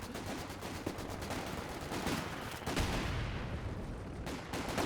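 Machine gun fire from a house in a video game battle, rapid continuous bursts and scattered gunshots layered with other combat noise, dense and loud throughout.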